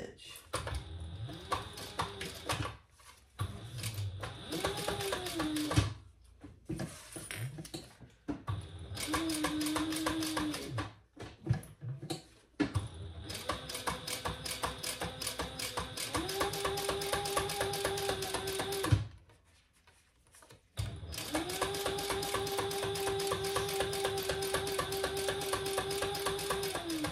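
Sewing machine top stitching an eighth of an inch from the edge of a tote bag, running in long steady bursts with short pauses between, close and fairly loud, with a person talking in places.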